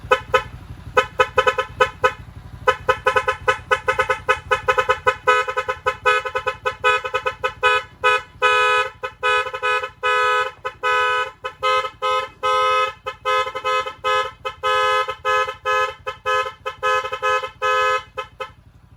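A loud electric stock motorcycle horn honks in rapid bursts, repeated short beeps and longer blasts in an irregular stuttering rhythm, close up with no talking.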